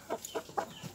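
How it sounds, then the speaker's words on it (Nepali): A large rooster clucks in a village yard, giving about four quick, low, throaty clucks in an even rhythm, close but soft, with no talking over them. "आमामा यो भाले कत्रो ठुलो हो"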